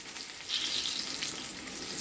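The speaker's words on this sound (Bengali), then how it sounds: "এবার আমি বেগুনটা আস্তে করে উল্টে দিচ্ছি, যেহেতু বেগুনটা এক পিঠে ভাজা হয়ে গেছে" Eggplant slices fry in a small amount of oil in a pan, giving a steady, dense sizzle throughout with no voices.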